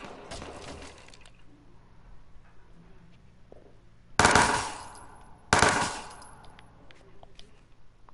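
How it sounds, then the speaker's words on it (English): Gunfire in the video game Watch Dogs 2: an opening rattle, then two loud bursts of automatic fire a second apart, sharp and close over a low game ambience with no speech. "Well, I'm getting shot at."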